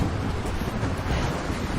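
Stormy wind and crashing surf from the Rise of the Tomb Raider video game, a steady dense rush of low roaring noise with no let-up, close and fairly loud, with no talk.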